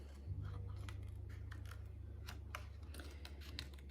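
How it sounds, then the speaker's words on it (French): Small scissors snip paper while making a Christmas card, a series of quiet crisp cuts over a steady low hum. "ces petits ciseaux là sont très pratiques"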